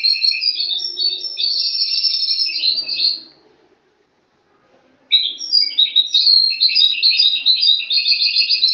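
Moroccan goldfinch singing loud, close and alone: a rapid run of bright twittering phrases, a pause of about two seconds, then another long burst of chattering song.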